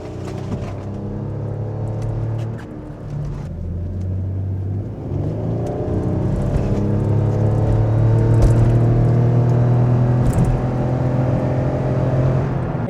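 A Lexus RX400h hybrid SUV engine revs up hard at full throttle and steadily climbs in pitch, a deep sustained roar building over several seconds with no talking.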